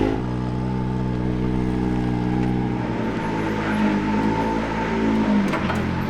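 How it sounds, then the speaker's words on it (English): Can-Am off-road vehicle engine pulling a lowrider into a shop, a loud close idle and low rumble with rhythmic firing pulses and a slight rev change partway through. "I'm gonna use a Can-Am to pull her in there."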